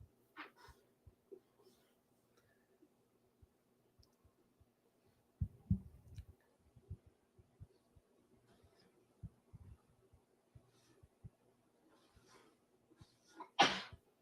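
A single sharp sneeze bursts out near the end, after a stretch of quiet rustling and soft clicks.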